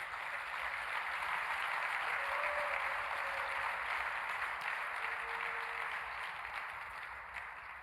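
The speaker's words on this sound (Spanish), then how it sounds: "De un aplauso al Señor por eso." Church congregation during a sermon applauding steadily, a broad wash of many hands clapping at a distance, sustained and slowly tapering toward the end.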